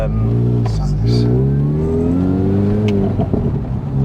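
A tuned Mini Cooper R53 engine revs up, its pitch climbing steadily and then settling, close and loud, with brief voices cutting in.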